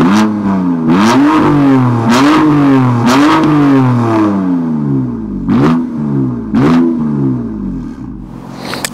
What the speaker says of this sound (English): Now the exhaust gets really aggressive, a really high pitch, and also you get those backfire, those bubbles when you let go the gas